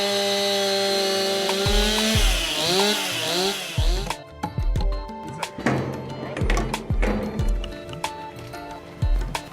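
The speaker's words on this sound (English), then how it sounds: "We're going to notch this with a chainsaw." A chainsaw engine whines steadily, then revs up and down in bursts as it notches a log, with dull knocks of wood between the surges.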